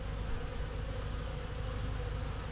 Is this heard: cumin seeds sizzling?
no